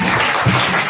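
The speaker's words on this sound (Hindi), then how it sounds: "तालियां।" An audience at an award ceremony for a Saraswati Puja celebration gives loud, dense applause, a steady close burst of many hands clapping together for under a second.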